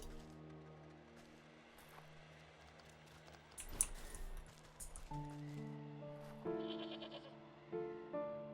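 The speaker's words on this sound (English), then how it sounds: "With the plump bodies of braying goats" Goats bleat in the video game Wytchwood, several wavering calls over a steady musical backdrop, with one sharp thump midway before a brighter tune takes over.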